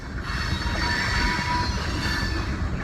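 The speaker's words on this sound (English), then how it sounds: "Train going by. Making a whole red bunch of racket." A passing train rumbles and clatters continuously near a shallow river, with high metallic wheel squeal ringing over the steady roar the whole time.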